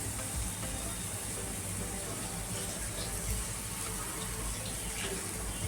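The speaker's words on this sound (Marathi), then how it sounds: "पण आता हे वाटण सगळं एकजीव व्हावं म्हणून थोडंसं पाणी टाकायचं." Cold water is poured into ground spice paste in a pan for a traditional Maharashtrian brinjal dish, giving a steady, soft gushing trickle that carries on without a break, fairly quiet and heard alone.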